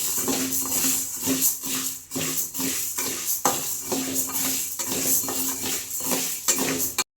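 Green gram (moong) roasting in a hot pan on high flame, stirred with rhythmic metallic scrapes and rattles of dry lentils against the pan, close and continuous without talk.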